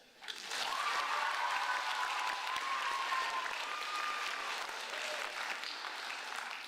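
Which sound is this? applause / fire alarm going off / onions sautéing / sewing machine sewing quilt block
applause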